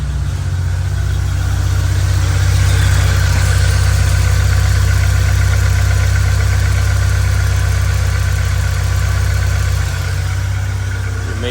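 Engine of a 1996 VW MKIII with a 4-speed automatic idling loudly and close after starting, a deep, steady rumble with a faint irregular knock, running without pause and with no talking.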